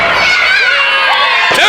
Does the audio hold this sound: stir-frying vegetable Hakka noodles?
no